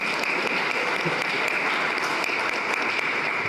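Steady applause from an audience at a community conversation event on education, a continuous dense clatter of clapping hands filling the room without pause.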